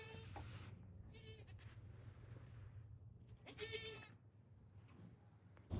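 Baby goats bleat in short, loud, separate calls with pauses between them, heard close by. They sound like young kids on a farm, and no one talks over them.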